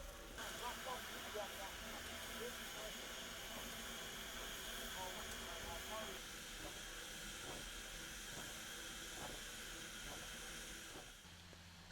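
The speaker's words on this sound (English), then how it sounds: "Today, steam is fed to the mill engine through a flexible steam hose." A steady mechanical hiss and rumble of a steam-powered sawmill engine fed by a flexible steam hose, running continuously, with rhythmic knocking and faint voices in the background.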